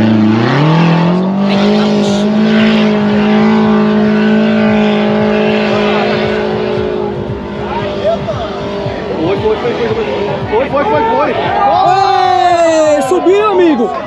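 Duster 4x4 engine labouring loudly as it climbs an off-road hill in an off-road challenge, a steady strained drone that rises in pitch near the end, with excited voices shouting over it.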